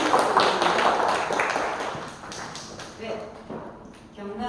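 An audience at a Chungcheongbuk-do provincial council policy forum breaks into a burst of clapping that gradually thins and fades as a voice begins speaking.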